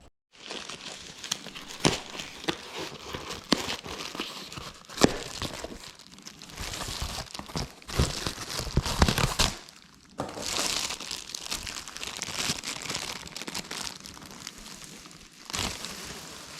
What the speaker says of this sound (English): I'm going to take it out of the plastic